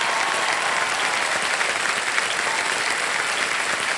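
Sustained applause from a TV quiz-show studio audience (KBC) for a contestant, many hands clapping in a thick, even wash that stays loud and unbroken from start to finish, with no voices on top.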